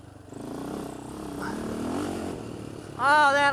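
A Polaris Outlaw 525 ATV engine revs under throttle, with a steady mid-pitched engine drone that rises, then a loud, wavering surge near the end, while someone talks over it.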